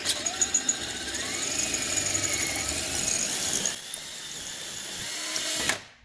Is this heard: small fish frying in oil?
no